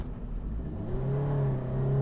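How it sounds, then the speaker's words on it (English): A Toyota 86 engine pulls steadily toward redline in third gear on a track, its rising harmonic drone climbing slowly and continuously from up close, loud and sustained without any gear change. "that takes forever to get to redline in third gear in this car"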